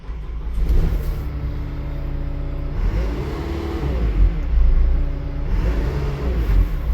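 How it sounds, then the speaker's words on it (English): A heavy tractor engine revs repeatedly, the pitch rising and falling in surges over a constant low rumble, loud and close by. "She revs up again."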